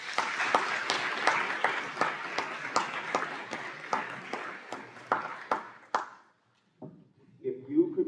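An audience at a high school awards evening claps steadily, a dense stretch of applause that fades out, then a voice speaks briefly into a microphone.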